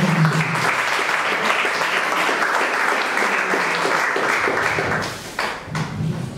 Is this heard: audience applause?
yes